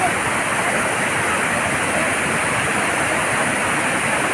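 Aliwagwag Falls in Cateel, Davao Oriental pours in a steady, dense roar of falling water, loud and unbroken throughout with no pauses.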